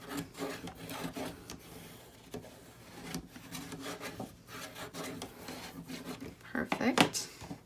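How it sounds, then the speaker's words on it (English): A bone folder rubs and burnishes paper down onto a tissue box in a papercraft project, giving soft, scratchy rubbing strokes at close range, with a couple of louder sharper swipes near the end. "Just rub it all down really nicely."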